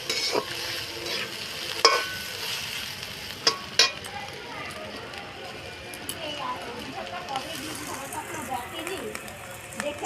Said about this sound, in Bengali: এবার নুডলসটা দিয়ে দিতে হবে দিতে হবে আর নাড়াতে হবে